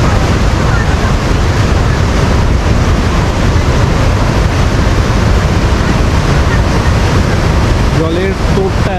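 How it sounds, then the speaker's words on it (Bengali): River current rushing along the natural border with Bhutan, a loud, steady broadband wash of water close to the microphone, with wind buffeting and no clear pauses throughout. "জলের স্রোতটা এত বেশি না"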